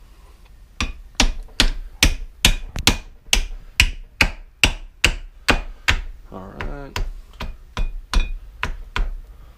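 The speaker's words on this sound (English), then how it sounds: "Try to hammer it down far enough to get to that snap ring groove." Repeated loud metallic hammer strikes ring out in a steady rhythm as an axle part on a Nissan 300ZX (Z31) is hammered onto its shaft, roughly a dozen and a half blows, with a brief spoken word partway through.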